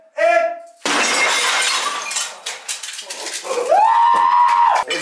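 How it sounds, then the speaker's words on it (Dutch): A ceramic mug is smashed with a sledgehammer, giving one loud shattering crash followed by a spray of tinkling fragments, after a short vocal burst beforehand and a rising voice-like tone near the end. "op die mok kloppen"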